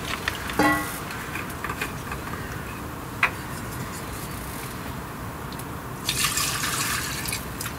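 Water is poured for a dog at a camp at night, heard as a steady watery trickle with occasional drips and clicks throughout.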